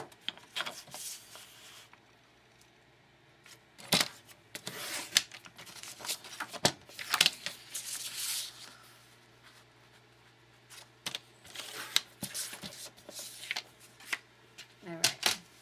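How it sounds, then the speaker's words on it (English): Card stock being trimmed to size on a paper cutter for handmade cards, with repeated sharp slicing and shuffling bursts between stretches of a voice talking nearby. "Let's cut that down. 5 1/4 by 4."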